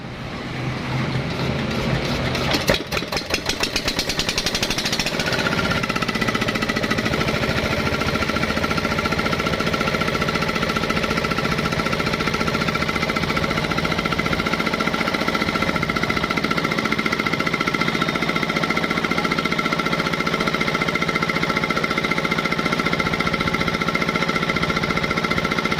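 A restored moler machine engine sputters with a rattling start, then settles into a steady, loud mechanical idle with a constant hum and fast knocking pulse that runs unbroken for over twenty seconds, no voices.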